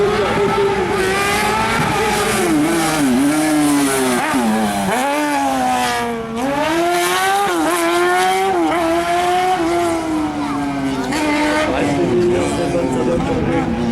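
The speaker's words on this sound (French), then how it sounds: "magnifique machine propulsée par un moteur moto." BRC slalom race car powered by a motorcycle engine at the Agon-Coutainville slalom, its high-revving engine loud and close, pitch rising and falling through repeated shifts, with a brief dip near the middle.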